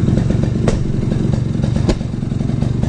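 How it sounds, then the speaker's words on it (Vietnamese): Vehicles passing on a highway, a constant loud engine rumble with a motorcycle-like drone and brief louder clattering bursts as traffic goes by nearby. "Cao tốc nên là cả nhà nghe tiếng xe rất là rõ luôn"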